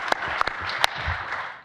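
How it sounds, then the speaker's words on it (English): Scattered applause from a seminar audience, a few sharp claps followed by a brief, thin patter that quickly fades. "give the big round of applause right there."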